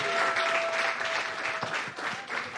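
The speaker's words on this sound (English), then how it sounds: "Keep the applause going, please." Dense, steady applause from the audience at an awards ceremony honouring people making an impact, filling the hall for several seconds at an even level, with a faint high tone ringing through part of it.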